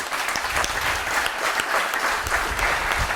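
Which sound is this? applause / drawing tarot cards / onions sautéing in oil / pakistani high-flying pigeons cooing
applause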